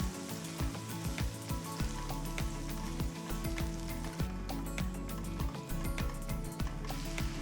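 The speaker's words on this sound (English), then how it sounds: "So we need to cook the masala paste because it's raw" Raw masala paste sizzles and fries steadily in oil for a beans curry, a continuous close crackle with frequent sharp pops and stirring scrapes throughout.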